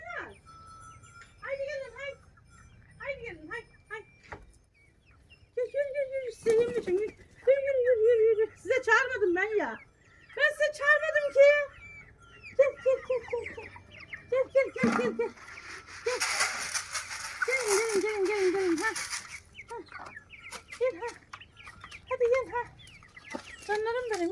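Chickens cluck and squawk repeatedly, fairly close, while someone talks over them throughout.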